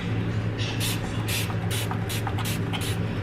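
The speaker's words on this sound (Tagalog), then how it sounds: "Ito, tubig lang ito guys, in-spray ko." Water from a spray bottle misted onto cookie dough for stick bread cookies, to help poppy seeds stick, comes as a quick series of about seven sharp hissing bursts over a steady low hum.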